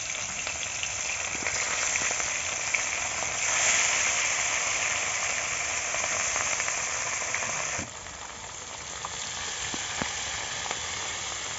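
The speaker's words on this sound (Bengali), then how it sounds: "10 মিনিট আগে মাছগুলো মেখে রেখেছিলাম। এখন তেলের মধ্যে ছেড়ে দেব।" Marinated rohu fish pieces fry in hot oil in a wok, a loud continuous sizzle with scattered crackles that eases slightly partway through.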